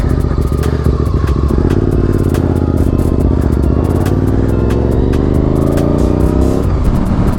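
A motorcycle cruises on a street, its engine loud and close with a continuous throbbing drone, rising slightly in pitch toward the end, along with some mechanical clatter.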